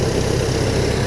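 A Kubota MU5702 tractor engine runs while driving a rice threshing machine, producing a loud, steady, low mechanical drone with constant vibration and no breaks, close by and without voices.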